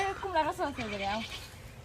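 A goat bleats repeatedly in a series of wavering, quavering calls close by, the cries rising and falling over about a second before fading, with a faint outdoor background.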